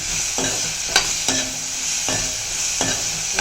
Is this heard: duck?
no